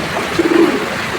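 A stock breeder pigeon in a loft gives a single short, close coo over a steady hiss of background noise.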